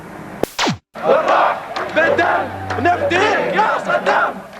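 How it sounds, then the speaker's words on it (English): A crowd in Baghdad during wartime chants slogans in loud, rhythmic unison shouts, with overlapping voices rising and falling, preceded by a short electronic sweep and a brief gap. "The crowd chants, "We will sacrifice our life, blood, and soul for Saddam.""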